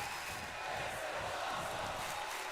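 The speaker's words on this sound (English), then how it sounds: "Crowd enjoying what they're seeing right now." An arena crowd cheers at a WWE 2K22 wrestling match, a steady, distant wash of roaring voices with no distinct words, holding at an even, moderate level throughout.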